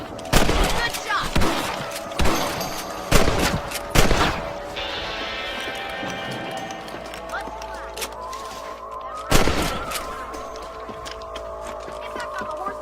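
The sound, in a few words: rifle gunfire in the video game Red Dead Redemption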